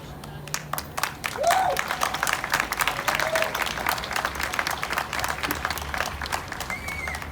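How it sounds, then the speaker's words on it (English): Scattered claps from an audience at an outdoor International Overdose Awareness Day gathering, sparse and uneven rather than a full ovation, with a few brief voice sounds rising over the steady background. "So hold that applause"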